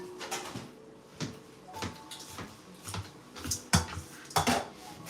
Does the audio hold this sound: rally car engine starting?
no